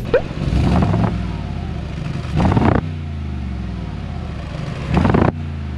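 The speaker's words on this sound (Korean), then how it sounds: "배기음만 들어봐도 AMG." A Mercedes-AMG G63's deep, rumbling exhaust idles close by, periodically swelling into louder throaty revs before settling back to a steady burble.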